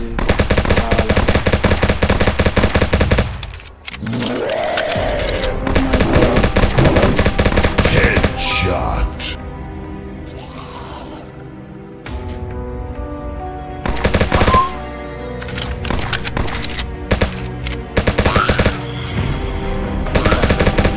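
Rapid machine-gun bursts ring out in a zombie shooting video game, loud and repeated in clusters separated by short pauses, with game music and effects underneath.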